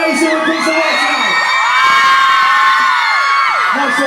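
A large crowd, including many children, cheers, whoops and screams continuously and loudly at an outdoor Christmas light switch-on on Kingsland Road in Wakefield.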